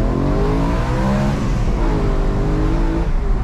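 A modified BMW E92 M3 engine revs in a steady, loud sustained drone with rising and falling harmonic tones, heard close from inside the car with no talk.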